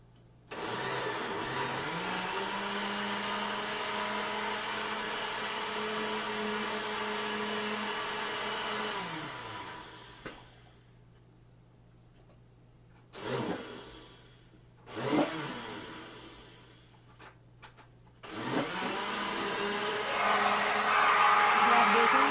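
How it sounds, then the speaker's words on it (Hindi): A kitchen blender grinds a strawberry banana milkshake in a steady, loud whir that winds down. It then runs again in a few short pulses before a final sustained run. "अब हम शेक को ग्राइंड करते हैं। इसकी थोड़ी सी आवाज़ आएगी"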